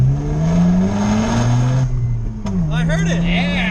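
A Mazda RX-7 FD3S with its rotary engine revs up loud and close, the pitch climbing and settling under steady engine drone, with people talking over it.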